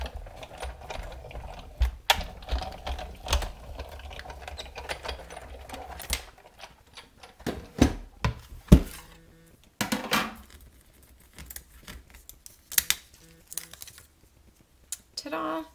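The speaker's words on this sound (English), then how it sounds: "Now I'm going to place the other cutting pad carefully on top, run it through my Big Shot" A Big Shot die-cutting machine is hand-cranked to run cutting pads through, giving a close run of clicking, ratcheting clatter with some pauses and quiet speech.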